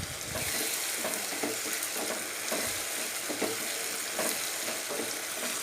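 Tomatoes sautéing in a pan for a tamarind-based vatha kuzhambu give off a steady close sizzle, broken by repeated scraping stirs of a spoon against the pan, with no talking.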